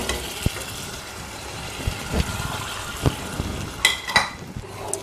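Tamarind water mixed with spice powder is poured into a simmering vegetarian curry in a pan. The curry hisses and bubbles steadily, with occasional spoon and pot clinks and no talking.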